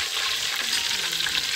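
Curry leaves crackle and sizzle in hot oil, a steady dense frying hiss throughout with no voices, close and fairly loud.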